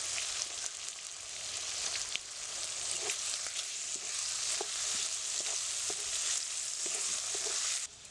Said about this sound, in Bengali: আদা জিরা বাটা কাঁচা লঙ্কা সবগুলো মশলা দিয়ে আমার একটু কষাতে হবে